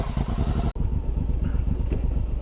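A Suzuki M109R motorcycle rumbles loud and close while riding, its low engine pulse steady with a brief dropout near the start and wind noise over it.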